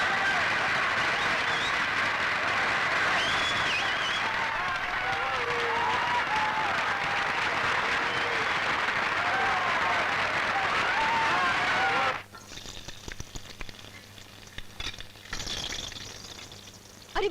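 Audience applause in a dramatised scene: a thick, continuous roar of clapping with voices and cheers threaded through, cutting off abruptly partway, followed by quieter scattered noise and brief clatter.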